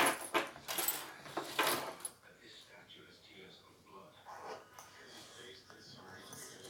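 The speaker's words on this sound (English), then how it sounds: "Okay, those are the Honda keys." Honda car keys jangling close by in bright metallic shakes for the first two seconds, then softer clinks continue under talking.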